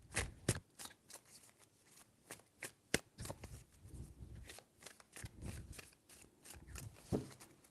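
A deck of tarot cards is shuffled repeatedly, a close, quiet run of papery flicks and slaps with a few sharper snaps of cards striking together, no voice over it.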